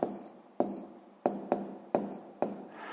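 A pen writes an answer by hand on paper in a run of six distinct strokes, each a sharp scratch fading off, close and fairly quiet, with faint traces of a voice.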